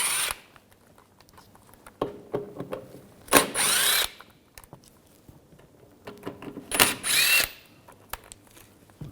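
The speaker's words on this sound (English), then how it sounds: "In the back, there's 3 screws. You want to take those out, use a T30 socket." Torx screws on a 2011-2018 Volkswagen Jetta TDI wagon are driven out with a power tool and a T30 socket, two loud whirring bursts of about a second each with short clicks and handling noise between.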